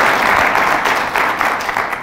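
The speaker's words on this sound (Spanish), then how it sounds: "Fuertes aplausos a Jesús de Nazaret" A congregation at a Catholic sermon gives loud, dense applause throughout, an even wash of many hands clapping without a break.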